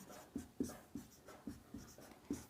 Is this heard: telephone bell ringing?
no